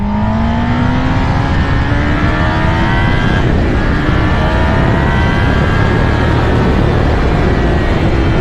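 Kawasaki Ninja ZX10R or Yamaha R1M superbike in a drag race, engine roaring loud and steady as it accelerates through the gears with rising pitch, a brief shift dip midway.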